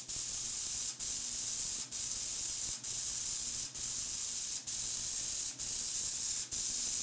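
A steady, hissing sweep-frequency ultrasonic cleaner, cleaning a dirty SU carburetor, runs continuously, its high whine briefly dipping at regular intervals of about a second.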